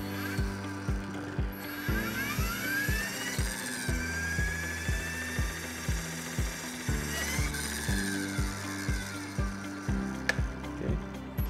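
A small WLtoys V911S RC helicopter powers up, its servos giving a steady series of short, close mechanical ticks and whirs at a regular rhythm, with a high whining tone rising and falling over them.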